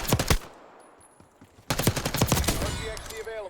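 Call of Duty Black Ops 6 gunfire: a fast burst of loud shots, a quieter gap, then a longer rapid automatic burst of close gunshots, with faint game sounds trailing behind.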